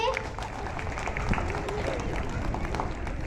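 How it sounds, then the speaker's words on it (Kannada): Students at a school assembly clap together in a dense, steady burst of applause that holds for several seconds, with some voices mixed into the noise. "ಚಪ್ಪಾಳೆ"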